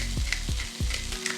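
Sliced green and red bell peppers seasoned with salt and pepper sizzle in a hot pan for chicken fajitas, a constant close hiss broken by a few soft stirring scrapes.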